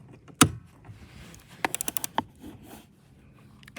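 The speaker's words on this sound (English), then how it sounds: "So you're going to take a 14 millimeter wrench." A 14 mm ratchet wrench loosening a seat belt bolt in a Toyota Tundra, a quick run of about six close, crisp ratcheting clicks after a single sharp clank, with faint handling noise around it.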